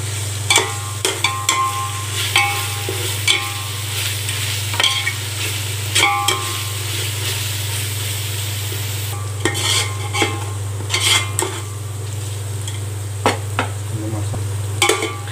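Ground masala paste with cinnamon and cardamom is stirred and sautéed in a pan for mutton dum biryani, with repeated spatula scrapes and clinks over a soft steady sizzle and a constant low stove hum, close and without voices.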